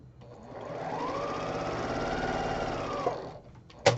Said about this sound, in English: I'm just going to sew these two to the top.